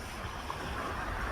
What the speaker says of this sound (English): Listen to the waves and make you wash out my thoughts.